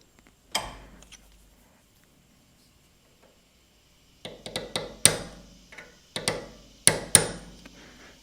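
A small punch hammers down a plug on a Walbro WT series carburetor held in a vise to flatten and seat it: one sharp metallic tap, a pause, then a quick series of about eight crisp, close strikes.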